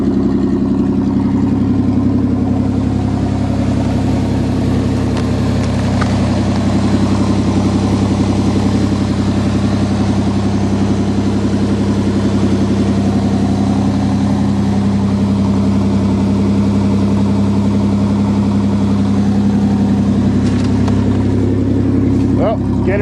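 A Ford 2.9 engine idles steadily after a cold start on a March morning, a loud continuous low rumble running the whole time without letup, with someone talking over it.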